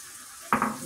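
Plenty of garlic hits a hot pan for garlic buttered shrimp, and a sudden close sizzle bursts up after a quiet moment, then settles into a steady hiss.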